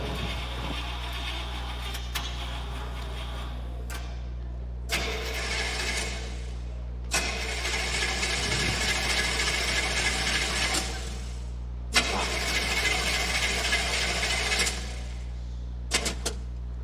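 A car engine cranks again and again and fails to catch, with several separate bursts of starter grinding between short pauses over a steady low hum, heard close and alone.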